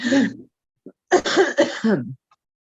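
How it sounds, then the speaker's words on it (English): A few short, harsh cough bursts close to the mic, a brief one first and then a cluster of rough coughs after a pause. "My ever-present cough."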